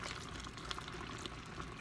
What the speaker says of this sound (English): We're just getting the water in.